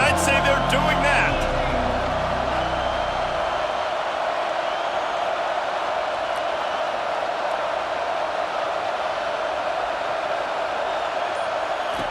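A stadium crowd in the College Football 25 video game keeps up a loud, sustained roar of cheering, after a brief low rumble at the very start.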